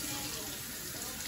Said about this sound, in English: Fill it up with water, let it go to a boil